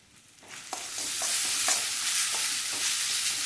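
Hot oil sizzling and crackling in a pan while a mango pickle is prepared, a steady dense frying hiss with a few sharp stirring clinks, close and fairly loud, no talk.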